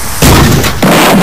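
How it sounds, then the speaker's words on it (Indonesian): Two heavy, booming blasts as an overturned truck explodes, one right after the other, loud and close, each with a short rumbling tail. "segera truk tersebut terbalik dan terjadi ledakan"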